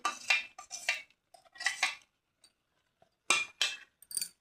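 Spoon scraping and clinking against a pan as spice paste is stirred while cooking capsicum, in short irregular bursts of close metallic clatter with quiet pauses between them.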